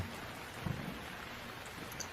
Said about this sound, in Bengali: এদিকে বাইরে তখন অযোধ্যারে বৃষ্টি শুরু হয়েছে।